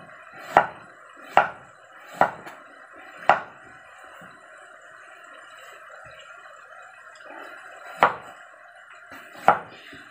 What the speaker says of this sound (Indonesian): Ini nanti lanjut motong-motongin lagi ya teman-teman ya